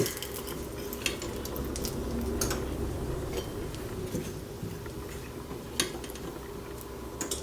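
Crispy bacon or pancetta bits scraped out of a pan of rendered fat, a steady faint sizzle with light metallic taps and scrapes of a utensil at irregular intervals, no talking.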